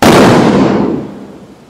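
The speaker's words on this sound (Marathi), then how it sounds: "पप्पा रशी बॉम्ब लावतात इकडे" A loud, sharp burst from a string of firecrackers crackling at close range during Lakshmi Puja, then quickly fading into a decaying rumble.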